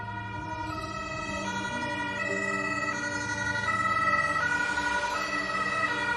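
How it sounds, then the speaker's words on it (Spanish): An ambulance siren wails loudly and without a break, its tone stepping between steady pitches in a repeating pattern. Close and prominent, with no voices. "decidieron llamar a una ambulancia"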